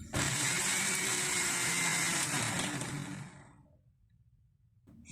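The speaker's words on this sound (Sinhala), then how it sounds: "ඒ ටික ග්‍රයින්ඩර් කප් එකට දාලා වතුර ටිකකුත් දාලා හොඳට ග්‍රයින්ඩ් කරගන්න" A kitchen grinder whirs loudly, blending garlic, curry leaves and water into a paste, then spins down and fades to near silence, with a faint click at the end.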